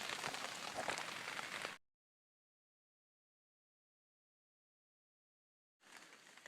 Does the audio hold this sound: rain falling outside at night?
yes